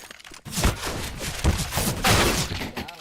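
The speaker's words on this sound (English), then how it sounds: "Flashbang." A flashbang grenade goes off in a CS:GO match as loud, sharp blasts and thuds, with several bursts in quick succession and a ringing, crackling tail between them.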